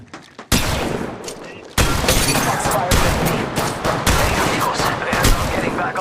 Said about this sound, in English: Getting shot at. Taking fire.